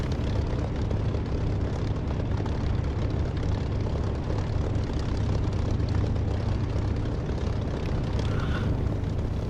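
An aircraft engine drones steadily before takeoff in the DCS flight simulator game, a dense, even roar that stays constant and loud with no voices over it.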